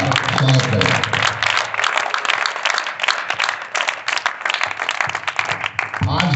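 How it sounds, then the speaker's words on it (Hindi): A classroom audience gives a loud, sustained burst of applause, dense clapping filling the whole stretch and easing slightly toward the end. "आप जोरदार तालियों से इस सदन के आरंभ का स्वागत करें"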